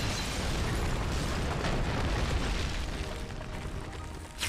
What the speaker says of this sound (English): Woo! Explosions!